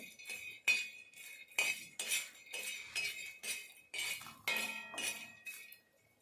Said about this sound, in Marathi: मी छानपैकी ते फुटाने भाजून घेते